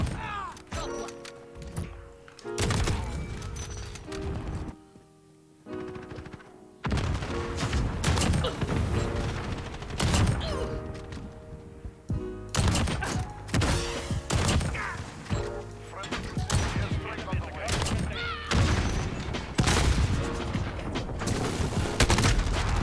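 Kar98k sniper rifle shots and other gunfire in Call of Duty Modern Warfare crack out loud and sharp in scattered bursts. Thuds and mechanical clicks sit between the shots, and there is a brief lull.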